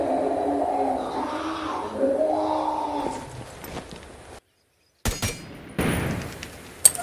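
Gunfire rings out against a sealed iron well cover boarded with wooden planks on an Italian villa map in a shooting video game, with several sharp bursts and impacts broken by a brief silence, then renewed shots.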